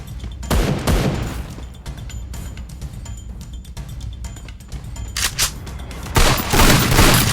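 Rapid gunfire from the M500 gun rattles nonstop in the mobile shooter Free Fire. Dense volleys and bursts sound loud and continuous over a busy game soundtrack, with no voices.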